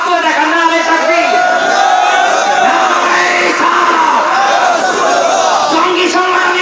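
A large crowd at an Islamic religious gathering shouts back in unison after a Takbir call, loud, sustained massed voices that keep going throughout with no pause.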